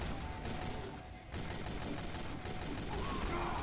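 Rapid gunfire in the video game Team Fortress 2, a dense sustained burst of shots close and loud over game noise, briefly dipping partway through.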